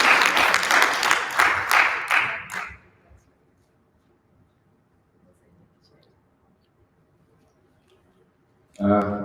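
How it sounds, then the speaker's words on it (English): An audience applauds the governor at a tourism leaders' panel, a loud burst of clapping lasting about two and a half seconds, then near silence, then a voice starts talking at the end. "give him a round of applause"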